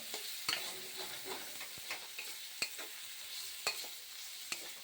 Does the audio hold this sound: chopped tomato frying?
yes